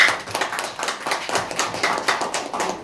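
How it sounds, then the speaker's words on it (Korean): Applause from a meetup audience greeting the company CEO as he comes up to present, a scattered crowd of hands clapping steadily and fairly close for a few seconds with no talk. "다시 한번 큰 박수로 맞이해 주시기 바랍니다"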